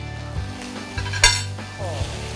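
Squid with asparagus pan-frying, a steady close sizzle with a few metal clinks of a pan and utensils and one sharp knock midway.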